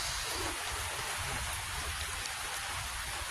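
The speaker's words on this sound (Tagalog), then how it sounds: "maya pag ulan ng ulan kasi bagyo ngayon" Heavy typhoon rain pours steadily as a dense, continuous hiss, with a low rumble beneath and no pauses throughout.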